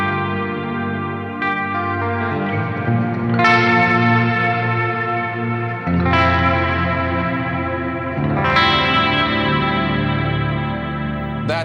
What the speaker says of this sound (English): There's really honestly no better chorus pedal to my ears.